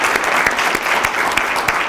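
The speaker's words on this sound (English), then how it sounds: "let's give them a hand clap and appreciation" Steady crowd applause from the audience at a district dialogue meeting, dense clapping held at a loud, even level throughout with no pauses.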